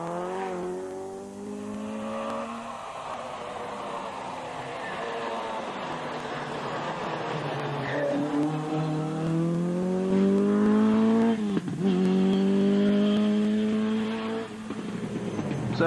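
A Ford Escort rally car races along a stage of the 1997 Jersey Rally, its engine droning steadily and then climbing in pitch as it accelerates and revs hard, fairly close, with no voices over it.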